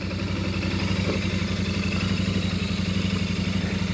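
A Royal Enfield Shotgun motorcycle engine idles steadily nearby, a low rhythmic thrum with some mechanical clatter and no voices.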